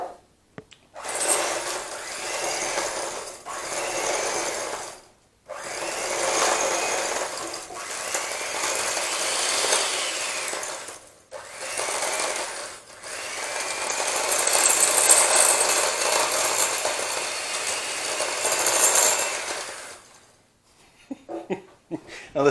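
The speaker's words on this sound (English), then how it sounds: "we're going to blend the butter and the sugar together" Electric mixer beating soft butter and sugar for shortbread, a loud whirring motor running in several bursts with short pauses between them, with faint talk at times.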